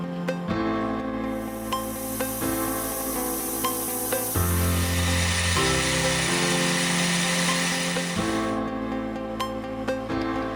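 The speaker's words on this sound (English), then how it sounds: "setting up the lathe to cut a 10-degree included angle." A metal lathe cuts a 10-degree tapered profile in steel stock held in a 3-jaw chuck, giving a steady, close machining whine with a hissing cutting edge that shifts pitch twice midway, with no talk.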